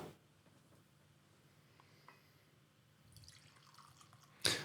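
A wee dram of whisky poured into a glass: faint, close trickling and dripping in a quiet room, ending with a brief louder clink or splash.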